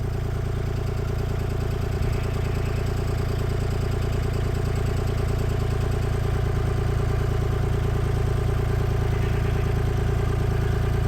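A tractor engine labouring in low gear while pulling a storm-displaced chicken coop wall back with a chain, loud steady mid-pitched rumble with clattery mechanical knocking, continuous and close.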